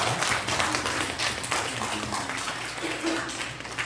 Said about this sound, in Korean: 우리 귀한 찬양으로 하나님께 영광을 올려주신 우리 성가대 위해 우리 뜨겁게 박수 한번 해드리겠습니다.